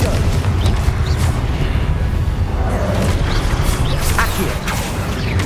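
Confringo fire blast spell from the Hogwarts Legacy video game, heard as a sustained, rumbling roar of booming, crashing energy that stays loud and steady for several seconds.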